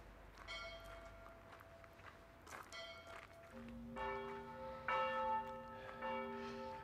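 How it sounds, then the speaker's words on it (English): A church bell rings in Podkowa Lesna, Poland, its struck tones repeating outdoors at a moderate distance with overlapping resonant clangs, fairly faint against background ambience. "Okay, bell's stopping."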